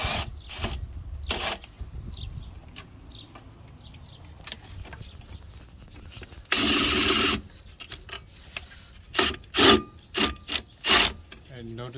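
Ratcheting and creaking metal as a long breaker bar works factory-Loctited brake bolts loose on a Mercedes Sprinter, with a short burst of noise midway and a few sharp clunks near the end.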